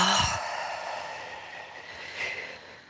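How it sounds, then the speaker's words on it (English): A single breathy exhale during a yoga session, strongest at the start and trailing off into a long, soft airy hiss, with a faint second puff of breath near the end. "Exhale. Inhale. Exhale."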